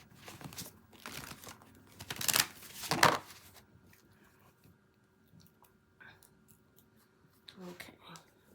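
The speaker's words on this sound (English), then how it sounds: "I'm going to do one more shuffle." Tarot cards are shuffled for a collective reading in a quiet room: a few close, crisp riffling and flapping bursts, loudest in the middle, followed by softer handling noises and light talking.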